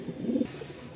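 A pigeon at a pigeon market in Mirpur-1, Dhaka, gives one short, close, throaty coo that swells and fades within a second.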